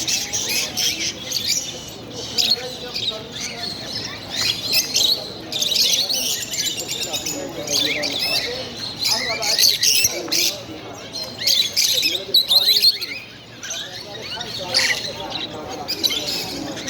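Pet birds chirping and squawking at a bird stall in a Dammam market, a dense, busy flock of tweets close by, with people talking faintly underneath.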